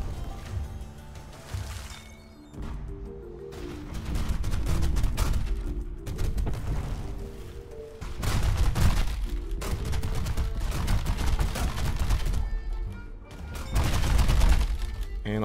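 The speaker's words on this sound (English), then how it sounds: "And all the ships are just blasting each other" Ships trading cannon fire in a naval battle in the Flip the Bacon video game, a dense, continuous barrage of overlapping booms and blasts with lulls in between, loud and close, with game music and effects layered underneath.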